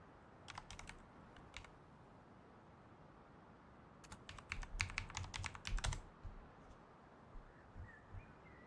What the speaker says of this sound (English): My typing is really bad tonight.